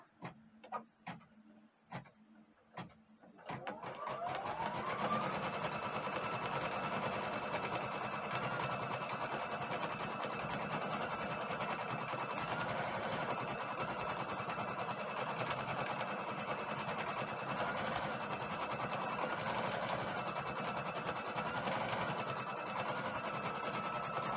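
A Stellaire sewing machine quilting gives a few short stitching bursts at first, then a continuous fast mechanical chatter that hums steadily for about twenty seconds, close by with no talk.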